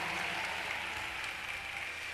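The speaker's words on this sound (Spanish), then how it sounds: "Aplauso para México y Colombia." Concert audience applauding during an orchestra show, a wash of continuous clapping and crowd noise, fairly distant and even for the whole stretch.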